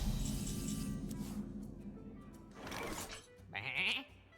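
Sheep bleat in the video game Hearthstone, a couple of short nasal bleats near the end after a low hum, moderately loud and without talk.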